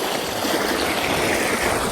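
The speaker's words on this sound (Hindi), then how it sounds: "अब पानी बाजरे की तरफ आ रहा है।" Irrigation water from a tubewell flows steadily through an open earthen channel toward a millet field, a continuous close rushing and trickling wash with no voices.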